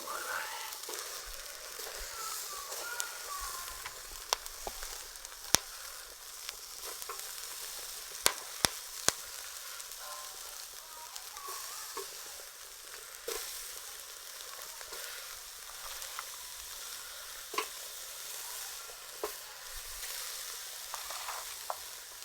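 Chicken pieces for chicken tikka sizzle steadily in an oiled pan, a soft, even frying hiss with occasional sharp pops and clicks, fairly quiet and close, while a voice speaks faintly at times.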